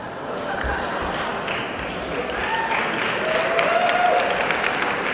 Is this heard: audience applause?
yes